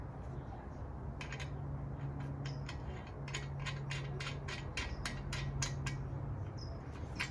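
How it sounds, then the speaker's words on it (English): Carriage bolts being hand-tightened on a recumbent exercise bike during assembly, giving a series of light, quick ratcheting clicks and small metallic ticks close by over a low background hum. "Now the carriage bolts should sit nicely in those little squares. And you can just hand tighten these again."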